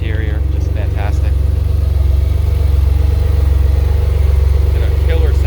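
A 2006 Noble M12 GTO-3R twin-turbo engine idles with a steady, deep, throbbing burble, close and constant, while a person talks over it.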